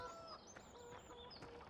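Farm chickens in a Farming Simulator 17 barn cluck and cackle in short, overlapping bursts, a close and fairly quiet flock chatter against a soft background hum.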